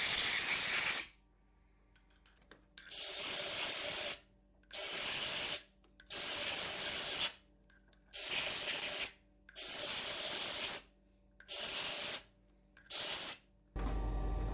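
Compressed air blowing chips off lathe chuck jaws in a machine shop, a series of about seven loud hissing bursts, each roughly a second long, separated by short silences, with no voices.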